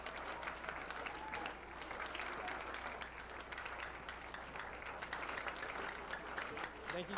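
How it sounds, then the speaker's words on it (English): An audience at a pitch competition gives the judges a round of applause, with sustained, dense clapping throughout and a steady low hum beneath it. "Please give us a round of applause."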